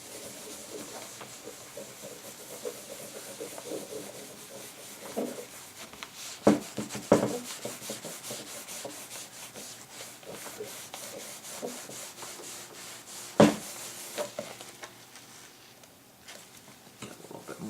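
Soap being rubbed by hand across a varnished acrylic pour canvas to strip off silicone, a soft, continuous scrubbing hiss at close range with a few louder knocks and bumps, no talking.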